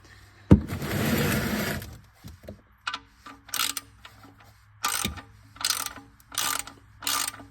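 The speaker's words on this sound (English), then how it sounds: "you can go ahead and spin the bolt back in" A ratchet wrench turns the oil drain plug bolt on a 2022 or later Mitsubishi Outlander, giving rapid clicking bursts in several short rounds with pauses between them, close by, after an initial metallic clank and rustle.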